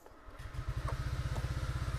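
A 2014 Honda Vario 125 automatic scooter engine idles close by with a rapid, even low putter that settles into a steady rhythm after a brief start.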